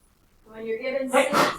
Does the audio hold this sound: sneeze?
yes